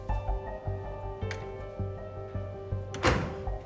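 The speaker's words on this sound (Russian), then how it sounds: "Дверь закрой." A door is shut indoors, giving a soft thunk near the end over a low, steady room hum with a few faint bumps before it, and no talk.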